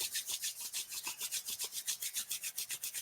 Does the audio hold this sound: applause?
no